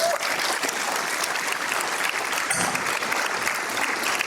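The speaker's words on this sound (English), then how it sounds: "So I'd like one more round of applause, please." Audience applause at a community unity dinner, a steady dense wash of many hands clapping that stays loud and even for the whole stretch, with faint crowd murmur beneath.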